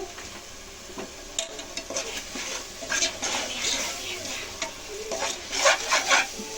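Mint leaves fry in oil in a pan with a continuous crackling sizzle, punctuated by repeated scraping and stirring strokes against the pan, close and fairly even throughout.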